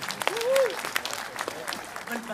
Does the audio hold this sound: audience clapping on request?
yes